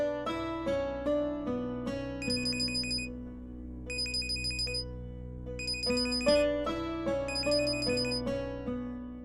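A phone ringtone plays a bright, repeating electronic melody loud and close, looping in regular phrases without anyone speaking over it.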